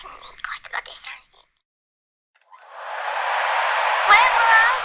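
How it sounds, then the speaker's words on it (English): A vacuum cleaner sound effect plays during a child's pretend house play, a steady whooshing drone that starts after a short silence and runs to the end, following brief soft speech. "We're going to need the vacuum cleaner."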